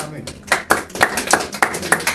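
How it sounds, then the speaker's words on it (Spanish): Hands clap in a church congregation in a steady beat of about seven claps spaced roughly evenly, fairly close and moderately loud, with a low murmur of voices underneath. "Dale un fuerte aplauso a nuestro Señor Jesús"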